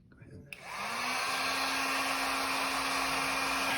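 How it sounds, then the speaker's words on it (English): A heat gun switches on with a click and runs as a steady loud blowing whoosh with a faint whine, aimed at lug nuts on the front axle of a Dolly XL during a front tire removal. "We're going to use a heat gun to heat the lug nuts on the axle to"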